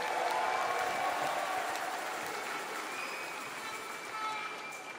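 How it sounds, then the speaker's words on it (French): An audience at a school event gives thin, fading applause, a soft wash of clapping that tapers off over a few seconds, with faint voices murmuring beneath. "vous pouvez lui faire un tonnerre d'applaudissements"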